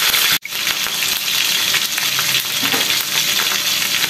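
Fermented river fish (pekasam ikan) frying in a pan at home, a loud, steady sizzle of hot oil that runs throughout with a brief dropout near the start, and no voices.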